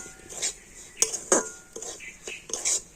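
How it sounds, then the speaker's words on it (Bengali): Semolina being fried in ghee in a pan over low heat, heard as a few scattered scraping and clinking strokes of a utensil against the pan. "আর এবার আমি ঘিয়ের সাথে সুজিটা কিন্তু ভেজে নেব।"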